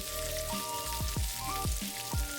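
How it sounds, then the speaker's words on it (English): Onions frying for pizza sauce in a pan give a steady faint sizzle, with a few soft rhythmic thuds and a thin tonal hum running underneath, no talking. "Listen to that sizzle."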